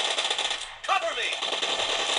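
Rapid bursts of automatic gunfire in PUBG Mobile, played on a Samsung Galaxy M11 phone, rattle continuously at close range with a brief gap and a short spoken interjection partway through.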